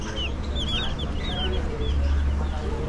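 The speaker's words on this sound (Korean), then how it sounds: "어릴 적에 병아리 다들 키워보셨죠?" Chicks cheep and cluck at a buffet-style restaurant in Costa Rica, a run of short high peeps near the listener over a low room murmur.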